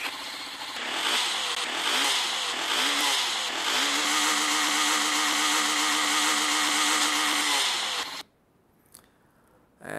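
A Honda CB300R 300cc motorcycle engine in a video game revs loudly and climbs in pitch, holding a high whine for several seconds before cutting off abruptly into near silence.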